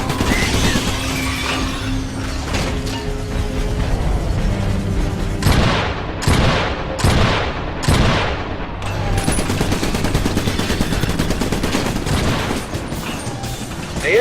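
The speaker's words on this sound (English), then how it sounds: "Who's shooting at me?" Continuous gunfire and machine-gun bursts from the video game Trenched, with rapid volleys and heavy booming impacts, loud and dense throughout.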